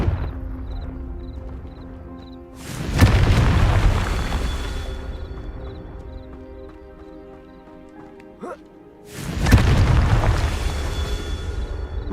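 Two booming Confringo spell blasts from Hogwarts Legacy on PS5 erupt several seconds apart, each a loud burst that decays slowly over a humming, tonal game backdrop.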